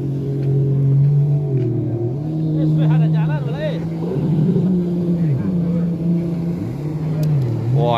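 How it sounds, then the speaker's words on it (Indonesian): A speedboat engine drones loudly and continuously on the Red Sea, its pitch rising and falling as the boat maneuvers close by, with people talking over it. "Wah, ini yang main speedboat ini."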